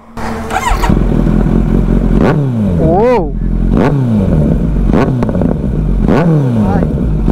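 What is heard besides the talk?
Kawasaki Z900 motorcycle with Akrapovic exhaust revving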